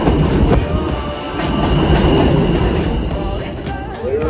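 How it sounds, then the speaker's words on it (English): A New York City subway E train pulls into a station platform with loud, continuous rumbling and clickety-clack of wheels, plus a faint high squeal, filling the whole stretch without any talk. "As it comes onto the platform, here is our E train that will take us along to our destination at 48th Street."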